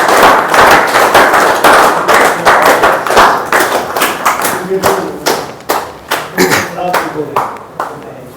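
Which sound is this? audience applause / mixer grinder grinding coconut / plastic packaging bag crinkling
audience applause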